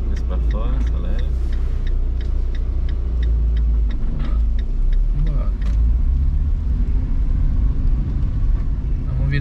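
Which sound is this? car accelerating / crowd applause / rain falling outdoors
car accelerating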